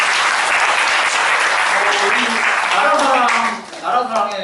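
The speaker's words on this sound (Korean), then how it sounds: "박수 한번, 네, 박수 한번 해주세요." A lecture audience at a book concert breaks into loud, sustained applause, a dense wash of clapping that fills the room before a voice begins to speak near the end.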